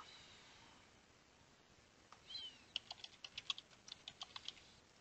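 Computer keyboard typing a command at a prompt: a quick run of about a dozen crisp, close keystrokes in an uneven rhythm after a quiet start, with a brief rustle just before the clicks begin.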